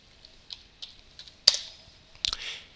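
Keys tapped on a computer keyboard to enter an IP address, a sparse run of soft separate clicks with a couple of louder strokes, close and quiet with no talking.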